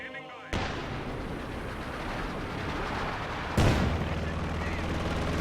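Dense gunfire and strafing rattle in a war strategy game with MG42 units and Panzer Grenadiers, a continuous barrage punctuated by a sharp blast midway, under a commentator's voice.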